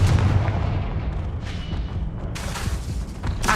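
A Confringo blasting spell is cast in the Hogwarts Legacy video game, giving a loud, rumbling explosive burst with dense crackling debris that fades and is followed by sharper blasts.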